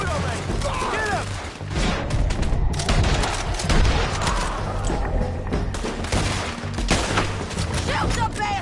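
Dense, chaotic gunfire from a shootout in Red Dead Redemption 2, rapid overlapping shots and bursts running throughout at close range, with shouting voices mixed in over the fusillade.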